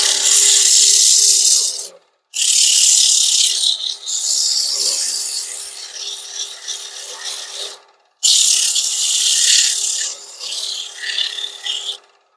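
Sandpaper of 180 grit rasping against the outside of a turned wooden bowl made from scrap dimensional lumber, loud close scratchy rubbing in long strokes broken by two short pauses.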